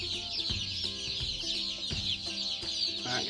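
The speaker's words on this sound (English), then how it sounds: "So we ordered 100 meat birds. These are meat chickens." Young Cornish cross meat chicken chicks cheep and chirp in a dense, continuous chorus, close by, with a few louder bumps and knocks mixed in.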